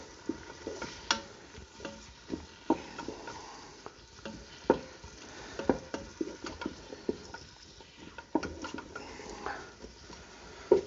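A wooden spoon stirring chopped onion in a pan over medium heat, giving soft scraping taps and light clicks at an irregular pace over a faint, low sizzle, heard close and quiet with no voices.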